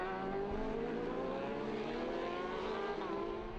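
Superbike motorcycles race at the Ledenon circuit during a French Superbike Championship round, their engines giving a loud, sustained high-pitched whine that slides gradually in pitch as they pass.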